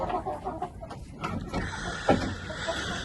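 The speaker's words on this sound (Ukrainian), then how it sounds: "Ось вам оці здорові кури, вони їдять набагато більше." Chickens cluck softly in a barnyard, scattered low calls with one louder squawk midway, over faint background rustle.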